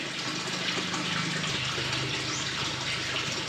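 Water runs steadily from a tap fed by a well pump, a constant close splashing flow that holds even for the whole stretch with no voices.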